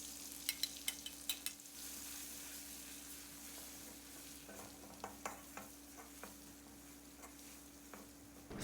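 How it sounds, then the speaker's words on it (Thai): Garlic, coriander root and pepper paste stir-fried in a hot pan for a Thai garlic-pepper pork dish: steady close sizzle with sharp spatula scrapes and clicks scattered throughout, no voices. "ใส่สามเกลือลงไปผัดให้แตกกลิ่นหอมเลยครับ"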